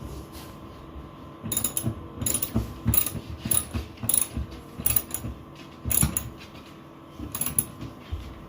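A ratchet tightens a nut down onto a lock washer during an off-grid cabin fridge installation, giving repeated bursts of close, crisp clicking pawl strokes with short pauses between them.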